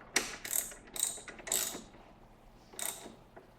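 Ratchet wrench snugging the bolts on motorcycle front brake calipers, a few short bursts of rapid clicking, close up and clear, with brief pauses between strokes.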